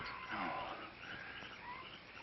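Night jungle ambience of a dense chorus of croaking frogs and chirping creatures, faint and distant, continuous with no voices.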